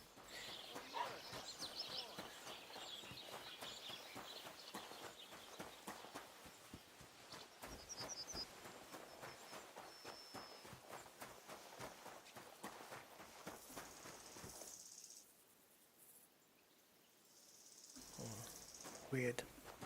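Horse hooves clip-clopping along a path in Kingdom Come Deliverance 2, a steady rhythmic run of soft hoofbeats at moderate distance, with faint bird calls and a brief quieter stretch near the end.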